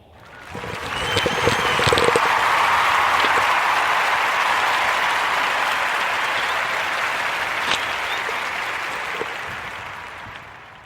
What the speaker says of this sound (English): join me into giving a Warm Narrative podcast round of applause